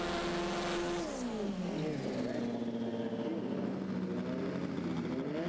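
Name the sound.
FWD drag racing cars launching in qualifying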